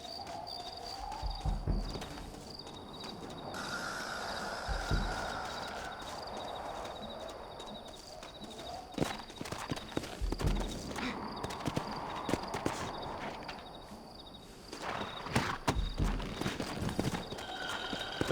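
Horse hooves clip-clop in Red Dead Redemption, steady rhythmic thuds that come and go over about eighteen seconds, with game music and ambience underneath and no speech.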